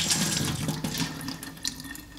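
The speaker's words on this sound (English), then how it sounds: "Rinse out the jar." Tap water runs steadily while a glass jar is rinsed out at a sink during rose seed cleaning, a continuous splashing hiss with small gurgles and shifts as the jar fills and empties.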